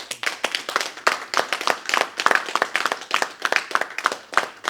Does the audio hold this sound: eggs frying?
no